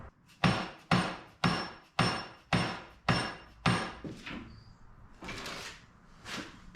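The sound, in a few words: hammering bushings into car suspension arms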